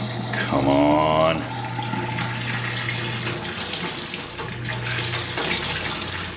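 Water pours from a coin-operated water dispenser into a jug, a steady close splashing rush with a low hum behind it, while a voice exclaims partway through.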